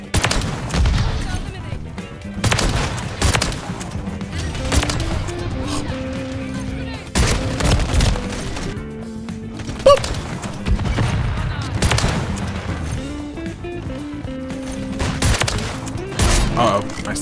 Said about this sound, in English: Ooh, precision airstrike.